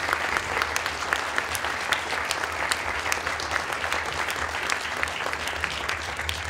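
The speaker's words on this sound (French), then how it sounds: "je vais vous demander de les applaudir, nos 2 intervenants qu'on verra tout à l'heure" A seated audience at a convention session applauds its speakers with steady, even clapping that stays full and fairly loud throughout, with no break.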